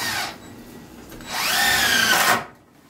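A cordless drill briefly spins, pauses, then drives a screw into a wooden 2x4 rack, whining up in pitch for about a second before stopping abruptly; close and clear with no talking.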